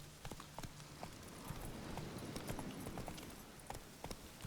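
Roach the horse gallops in The Witcher 3, its hoofbeats a quiet, steady clip-clop running throughout over a soft background, with no voices.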